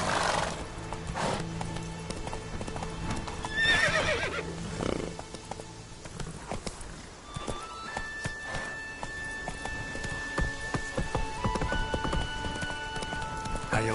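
Video game horse hooves clip-clop at a walk, with a loud neigh early on, followed by a run of busy game effects and tones, no talk.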